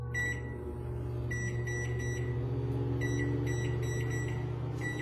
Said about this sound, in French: on va le mettre au micro-ondes pour 3 minutes